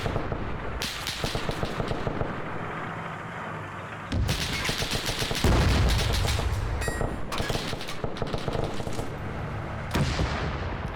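Guns fire in a 1948 Israeli and Arab war video game, rapid crackling bursts of gunfire repeating throughout, with denser, louder volleys in the middle over a noisy battlefield background.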